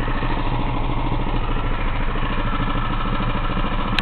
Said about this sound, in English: See how low that idle is.